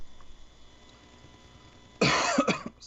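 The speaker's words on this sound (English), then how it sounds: "I had to cough" A person coughs a few sharp, loud times close to the microphone during a live gaming news podcast, breaking a stretch of quiet room tone.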